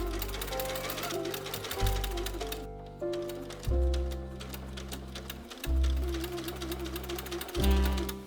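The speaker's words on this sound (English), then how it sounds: "I'm gonna sew the side back panel to this one" Sewing machine stitching dress panels together, close rhythmic needle clatter in bursts separated by brief stops, with a low motor hum beneath each run.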